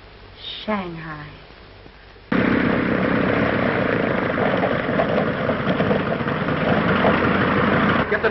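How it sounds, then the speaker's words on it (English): A steady, droning propeller aircraft engine roars loudly and continuously after a brief quieter opening with a voice. "Get the number of that plane."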